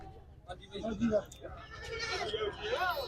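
Barbari goats bleat at a busy rural goat market, with several short calls rising over steady crowd chatter and nearby voices talking.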